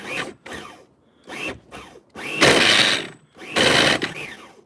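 Novarossi nitro engine on an Ofna Jammin RC car during a first test start, giving several short bursts of harsh, buzzing engine noise, each lasting well under a second at first and then longer, separated by pauses.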